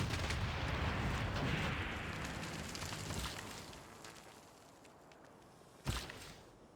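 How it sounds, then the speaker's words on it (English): Battleship firing its guns in Civilization VI, starting with a broad rumbling roar that fades over several seconds, then one sharp, loud blast near the end, with no talking. "Battleship, I want you just to continue firing"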